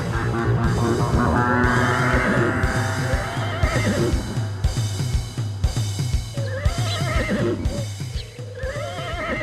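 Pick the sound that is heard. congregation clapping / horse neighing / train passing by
horse neighing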